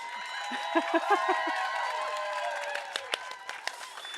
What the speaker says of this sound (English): So now, the big round of applause for Renelta Arluk and Talromik.